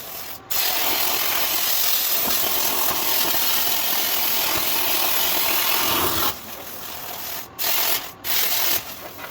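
Plasma cutter slicing old motor mounts off a 1977 Ford Bronco frame during a Coyote engine swap, a loud steady hissing roar running for about six seconds, then broken into short bursts with brief gaps.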